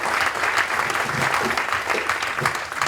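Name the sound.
audience applause for event helpers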